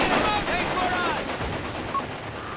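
An MG 42 machine gun fires from a German defensive bunker in a World War II shooter game, rattling in bursts mixed with other battlefield gunfire while game voices speak over it.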